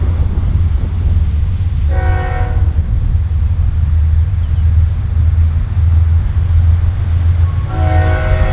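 NS freight train rumbling steadily past up close, its horn sounding two loud blasts, one early and one near the end, over the constant roar of wheels and cars.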